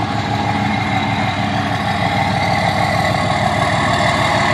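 A 2003 Dodge Cummins diesel pickup with a straight-pipe exhaust, programmer and intake idles loud and close, a steady deep rumble with an even throbbing pulse that never lets up.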